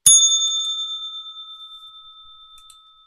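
A single bright bell strike rings out close and clear, then its pure tone hangs and slowly fades over a few seconds, with a couple of faint ticks along the way.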